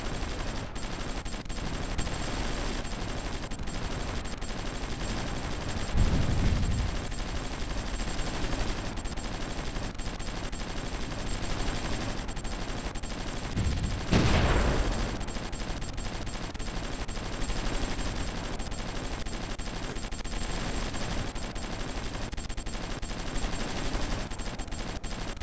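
Repeated artillery and gunfire in the strategy war game Supreme Ruler Ultimate, a steady crackling barrage with two heavier booming blasts standing out, no talking.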